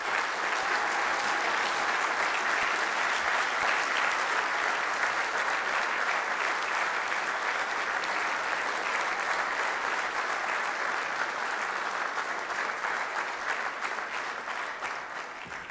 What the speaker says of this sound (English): Please all join in a rousing cheer for this remarkable young man.